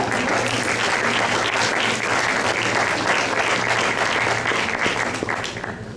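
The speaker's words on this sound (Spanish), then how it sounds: "Regalémosles un fuerte aplauso" A university audience at a journalism panel discussion in El Salvador applauds its guests of honor, a full, sustained burst of many people clapping that holds steady and begins to thin out near the end.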